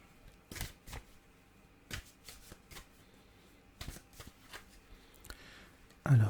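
Tarot cards are shuffled for a reading in quick soft riffling bursts, close and quiet, separated by brief pauses in an otherwise still room.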